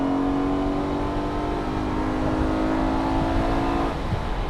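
A car laps the ThunderHill race track, its engine holding a steady droning whine with a faint shift near the end, continuous and close as if from inside the car.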